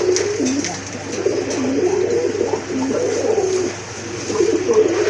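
Fancy pigeons coo steadily in a loft, their low, rolling calls repeating close by with no talk, over a constant background hum.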